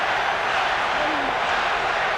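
A dense boxing arena crowd yells and roars in a continuous wash of noise during a Mike Tyson fight, with no clear single voice standing out.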